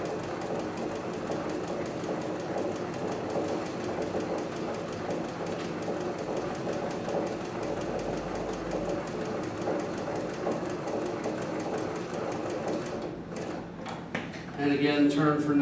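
A CB6900 leather sewing machine runs a continuous rapid stitching rhythm while sewing a box pattern around a leather piece, fairly quiet and steady, ending with a few brief clicks and handling noises.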